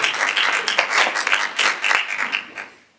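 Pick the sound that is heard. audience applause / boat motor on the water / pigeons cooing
audience applause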